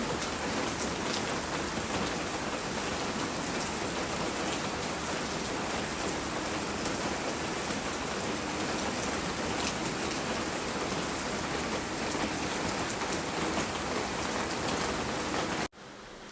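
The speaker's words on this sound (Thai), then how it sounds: "ฝนตกตั้งแต่เมื่อคืนแล้วค่ะ ตอนนี้ก็ยังไม่หยุดตก เลยนะคะ" Steady, dense rainfall pours down without a break on Koh Lanta, Thailand, a continuous hiss of drops hitting surfaces close by, with no voices.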